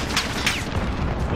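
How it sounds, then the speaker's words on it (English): A frag grenade explosion in Call of Duty Modern Warfare rumbles loud and close, a dense low roar with a couple of whooshing debris sweeps and no talk over it. "So, what happens if I throw the frag first?"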